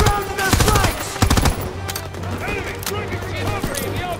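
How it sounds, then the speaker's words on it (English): Machine gun fire in the World War II shooter Call of Duty: WWII, delivered as loud rapid bursts in an indoor firefight around a staircase, while shouted voices call out over the shooting. "They're dug in by the main staircase! Far side! MG's on the stairs!"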